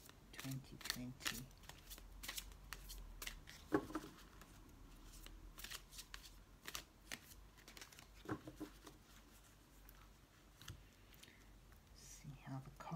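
Tarot cards are shuffled and split with soft riffling, flicking and tapping sounds, close and quiet, while a whisper-soft voice talks over them.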